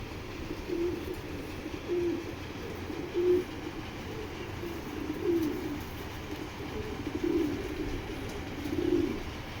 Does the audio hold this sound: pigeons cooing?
yes